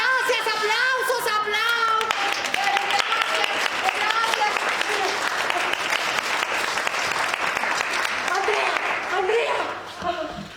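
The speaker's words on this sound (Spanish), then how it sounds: "Gracias, aplausos." Audience at a panel event applauding, sustained dense clapping lasting several seconds with voices and some tonal sounds layered over it, tapering slightly at the end.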